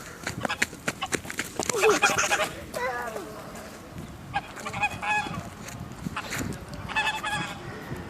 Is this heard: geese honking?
yes